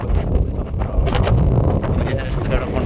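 Strong wind roars across the microphone at the summit of Mt. Seorak in Korea, a loud, close, gusty rumble with little variation through the short stretch.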